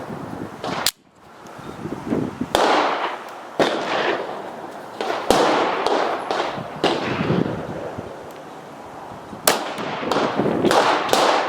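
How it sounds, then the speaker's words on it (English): Ten sharp gunshots from a 5.7x28mm firearm firing FS197XR 40 grain VMAX reloads crack at uneven intervals, loud and close, each followed by a short decaying echo and no talking between them. "now here are the 10 shots of the FS197XR 40 grain VMAX"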